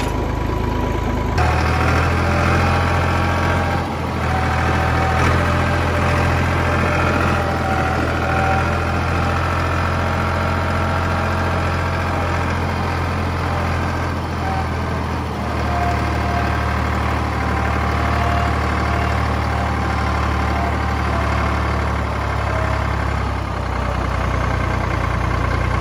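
A tractor engine idles loudly and steadily nearby, a constant low rumble that barely changes throughout, with no talking.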